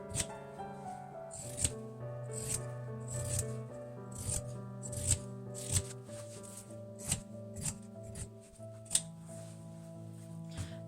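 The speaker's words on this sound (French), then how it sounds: "Donc là on peut découper directement voilà, au ciseau cranteur" Pinking scissors cut through fabric for small favor pouches, giving a series of crisp snips at irregular intervals, close but quiet, over a faint steady background hum.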